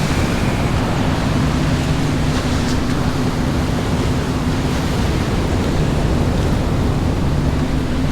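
Big waves break at Keawaʻula Bay on Oʻahu, near Kaʻena Point, making a loud, continuous roar of surf with low rumble and no pauses.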